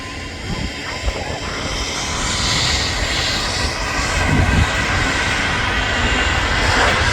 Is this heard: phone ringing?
no